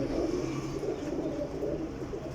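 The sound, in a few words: Teddy pigeon cooing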